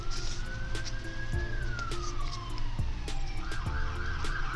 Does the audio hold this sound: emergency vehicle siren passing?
yes